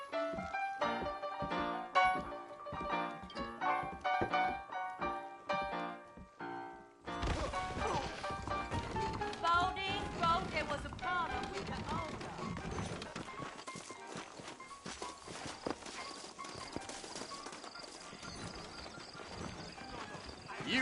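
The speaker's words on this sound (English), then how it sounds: "I got the horses saddled up and ready out front." Horses clip-clop in the Western video game Red Dead Redemption, steady hoofbeats with thuds and clatter over game music, while characters talk.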